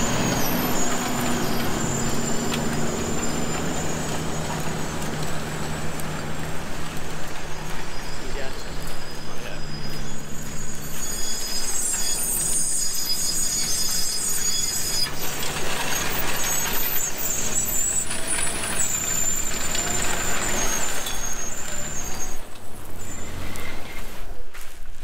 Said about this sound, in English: screeching sound you can hear is the coarse sand and rocks caught in the brake calipers and fouling against the brake discs.